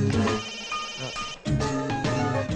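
A telephone rings with a loud, melodic electronic ringtone in a Kannada film scene, two close bursts of tone with a brief dip between them.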